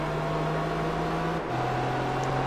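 A racing car engine in Gran Turismo 3: A-Spec drones steadily at high revs, then its pitch steps down once midway as if shifting gear, with a smooth, continuous hum and no talking.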